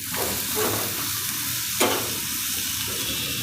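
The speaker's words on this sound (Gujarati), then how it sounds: "થોડાક એને તેલમાં તેલમાં આમ ફેરવી રાખવાના" Finely chopped onions sizzle steadily in hot oil for a Gujarati malai kanda curry while being stirred, giving a continuous loud frying hiss with a brief scrape of the spoon partway through, close up and with no voices.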